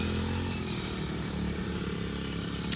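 A rice-cutting machine works in a paddy field, its small engine droning in a steady, buzzing tone close by, with no talk over it.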